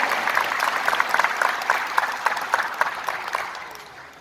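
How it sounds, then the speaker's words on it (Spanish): A crowd claps warmly at a welcoming ceremony for a Náhuatl Indigenous community consultation, a dense run of handclaps with sharp individual claps poking through, tapering off toward the end. "Le demos un fuerte y cálido aplauso."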